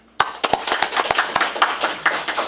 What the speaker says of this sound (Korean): 저분한테 박수 한번 보내주세요.